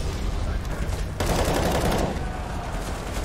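Gunfire in Counter-Strike: Global Offensive on the de_dust2 map during an ESL One Cologne 2018 semi-final, a dense volley of rapid shots with a louder burst in the middle, heard without talk.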